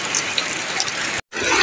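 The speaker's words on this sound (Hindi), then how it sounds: "ये सब पानी पड़ रहा है, एमे पानी बह रहा है" Rainwater falls and runs through a village during a downpour, making a dense, continuous hiss of rushing water that is loud and near, broken only by one brief cut in the sound.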